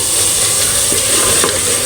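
Minced meat and peas fry in oil for matar qeema, giving a loud, continuous close sizzle with a few soft stirring scrapes.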